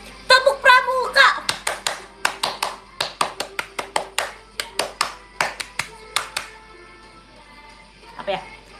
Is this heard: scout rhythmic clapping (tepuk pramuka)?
yes